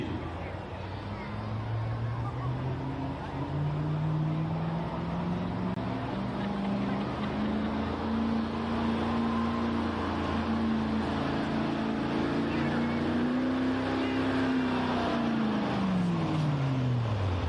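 A 2010 Ford F-250 truck roars through a pulling pass at a county fair truck pull, its engine drone climbing steadily in pitch and holding loud and close for the whole run before easing off near the end.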